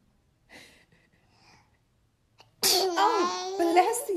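A child sneezes once, loud and close, after a few soft vocal sounds and a quiet pause, with breathy noise trailing after the burst.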